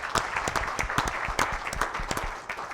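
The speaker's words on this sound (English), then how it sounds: "maybe we can give them a round of applause for their effort." A roundtable audience claps for the insurtech panelists, a modest, fairly close applause with distinct individual hand claps in an uneven rhythm over a few seconds.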